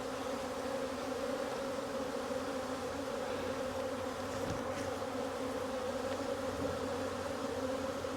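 Honeybees buzz in an opened hive during a brood frame inspection, a soft, continuous hum that stays even throughout, with no talking.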